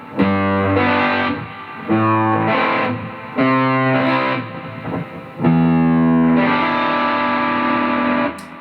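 Distorted electric guitar strums a sequence of chords, each held and ringing for about a second, the last one sustained longest.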